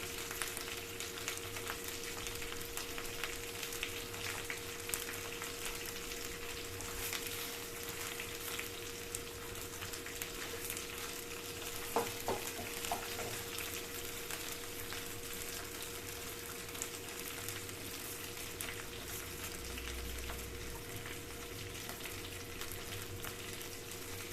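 Steady sizzling and crackling of urad dal, chana dal and dried red chillies frying in hot oil, continuous and close, with a few brief stirring clicks partway through and no talking.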